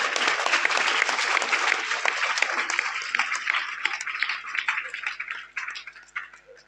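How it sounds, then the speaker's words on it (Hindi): An audience of students and teachers at a school motivational seminar in Badarwas, Madhya Pradesh, breaks into loud, dense applause after poetry recitations, holding strong before thinning into scattered claps and fading. "तालियां आपके लिए।"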